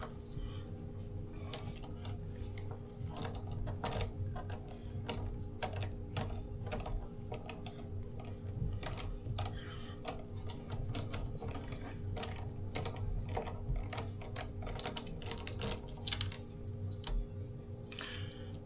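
A small screwdriver backs four screws out of the rear of a 2024+ Tesla Model 3/Y Juniper steering wheel, giving a steady run of fine ticks and ratcheting clicks over a constant low hum, with no talking.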